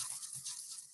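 A toothbrush loaded with white paint is rubbed and scrubbed on a painting surface, giving a steady, close, hissy bristle scrape with slight rhythmic swells over about a second.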